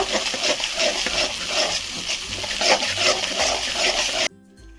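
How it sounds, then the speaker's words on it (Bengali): A ginger, garlic and tomato paste is stirred in a hot pan with oil, giving a continuous close sizzle and scraping that stops abruptly near the end. "এর মধ্যে দিয়ে দেবো আদা রসুন টমেটোর পেস্টটা পেস্ট দিয়ে ভালো করে নেড়ে নেব"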